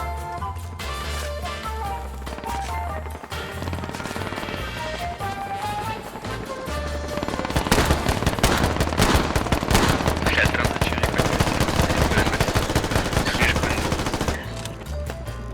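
Rapid bursts of gunfire crackle over a busy game soundtrack, growing denser and louder midway before easing off near the end.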